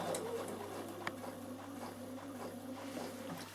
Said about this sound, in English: So I'm just going to stitch down.